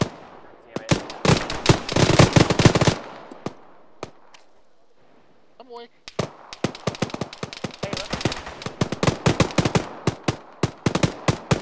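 Rapid gunfire in the Arma military video game, dense crackling bursts of automatic shots near and far, broken by a short lull and then resuming in rattling volleys.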